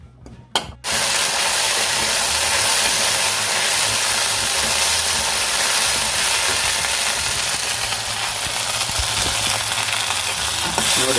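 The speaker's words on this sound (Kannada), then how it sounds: "ಈ ಹೂ ಬಾಡೋ ತನಕ ಆ ಹೂವನ್ನು ಹುರಿಬೇಕು." White hibiscus flowers frying in a pan, a loud, steady sizzle that starts after a few brief clatters and holds constant, with faint stirring underneath.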